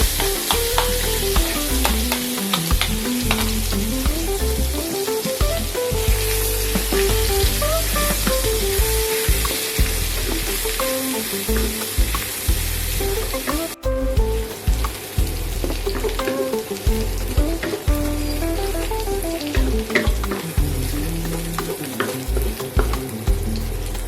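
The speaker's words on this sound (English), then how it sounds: "Stir fry the garlic," Garlic, anchovies and shallot stir-fry in a pan, a loud continuous sizzle broken by repeated scraping and tossing strokes for over twenty seconds, with no voices.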